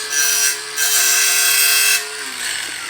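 A power tool trims a plastic-fiber composite part during Corvette C7 Z06 suspension work, a loud close whine in two long bursts with a short pause between, then a quieter tail.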